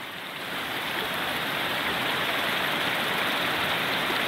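Water rushes at Greer Spring in autumn, a steady broadband wash of flowing water close at hand, continuous and even with no talk.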